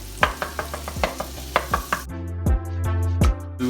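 Fresh garlic cooking in a pan for honey garlic chicken, with a spatula stirring and scraping in a steady rhythm of close, sharp taps over a low sizzle that swells louder in the second half.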